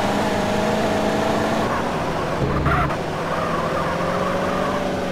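Car driving through the streets of Grove Street in GTA San Andreas, a steady engine drone with road noise holding level throughout, swelling briefly near the end.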